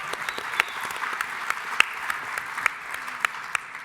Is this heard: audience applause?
yes